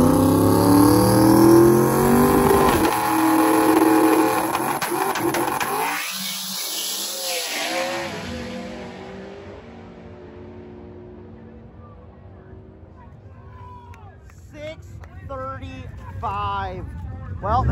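Radial drag race car launching on a quarter-mile strip, a loud engine roar that fades away as it runs off into the distance, followed by quieter crowd noise and voices talking.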